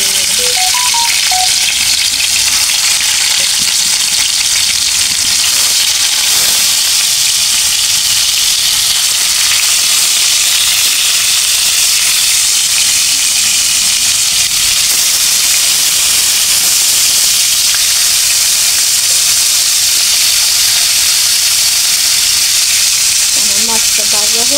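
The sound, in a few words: fish frying in oil in a wok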